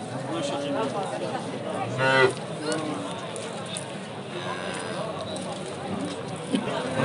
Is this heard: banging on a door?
no